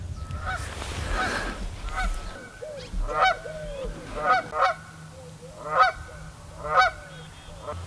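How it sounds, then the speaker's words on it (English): A goose perched up in a cottonwood tree honks repeatedly outdoors, a series of harsh nasal calls at fairly regular intervals, close and clear over a low background rumble and rustle. "Have you ever seen a goose in a tree?"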